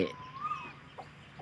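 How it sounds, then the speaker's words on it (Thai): Young chickens about two to three months old in a free-range pen on a farm give a few faint, short clucking calls against a quiet background. "เรานี้เป็นมีไก่รุ่นสองเดือน เข้าสามเดือน"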